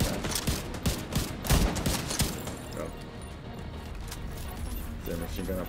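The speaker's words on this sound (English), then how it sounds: "Machine gun up top." Machine gun fire from above in The Division 2, rapid bursts of shots rattling at mid distance, loudest early and then thinning into background battle noise with a voice talking over it.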